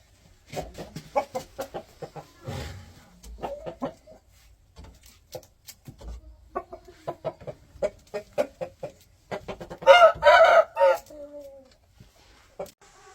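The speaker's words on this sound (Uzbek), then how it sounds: "Mana korpusli jo'jalarimiz, fevralli jo'jalar." Chicks and young chickens cluck and murmur in short bursts nearby, with a louder flurry of clucking partway through and soft background noise.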